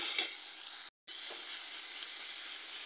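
Slit green chillies hitting hot oil in a frying pan with softened tomatoes, a steady, fairly quiet sizzle and hiss, broken by one short drop to silence.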